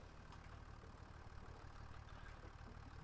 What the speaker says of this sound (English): I need to start the engine.